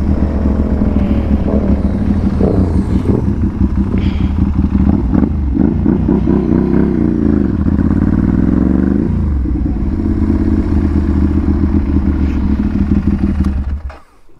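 Ducati 796 motorcycle fitted with a titanium exhaust pulls hard at speed, its loud engine note rising and falling through gear changes with heavy wind roar, close and continuous before dropping off at the end.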